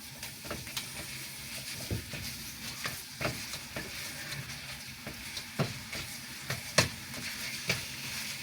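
Meat sizzles and fries in a pan while being stirred, giving a soft, steady crackle punctuated by repeated scraping taps of a utensil, with no one speaking.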